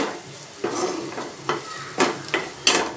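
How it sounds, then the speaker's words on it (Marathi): Malvani masala tempering being stirred around a pan on the stove, a soft steady sizzle broken by several sharp scraping strokes of a spoon against the metal, close by and with no voices. "हे असं फिरवून घ्यायचं ही फोडणी"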